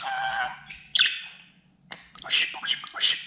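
A budgerigar chatters close up, starting with a warbling, voice-like stretch before breaking into a quick run of sharp chirps and squawky calls.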